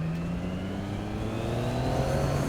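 Yamaha MT-09 motorcycle engine running steadily while riding, a continuous near hum with slowly rising pitch as it accelerates, no talking.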